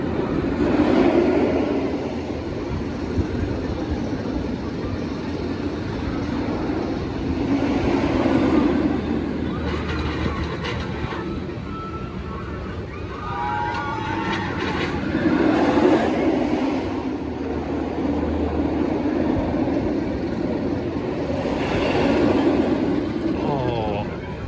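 Batman the Ride, a B&M inverted roller coaster at Six Flags Over Texas, roars loud and close in repeated swells as trains pass, with a steady rumble underneath and people talking nearby.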